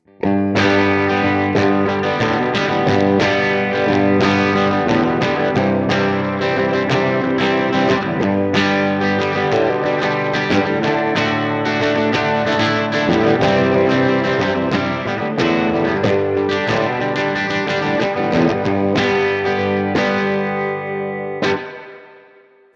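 An electric guitar, a Gibson ES-339 on the bridge pickup, with a bright, biting tone and effects plays a continuous riff of strummed chords and notes, loud and steady, then cuts off.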